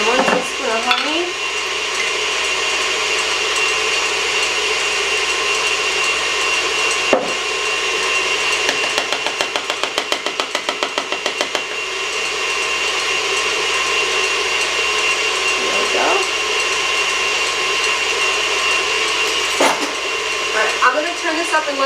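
An electric mixer runs continuously as it whips egg whites to stiff peaks, a steady whirring drone with a few brief knocks and pitch shifts, and a voice speaks briefly.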